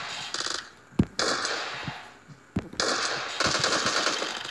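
Rapid gunfire bursts in the battle royale game PUBG Mobile on the Miramar desert map, with sharp cracks and sustained automatic fire alternating with brief lulls, loud and close.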